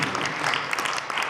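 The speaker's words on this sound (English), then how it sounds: "So let's give ourselves a round of applause" Applause from an audience at a Harlem community awards ceremony, a brief dense burst of clapping that fills the room at steady loudness.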